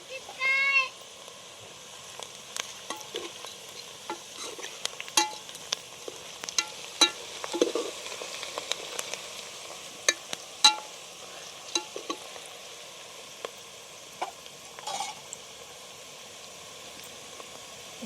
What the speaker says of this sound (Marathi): थोडासा कांदा तळत आला की त्याच्यात मी हिंग टाकून घेते एक चिमूटभर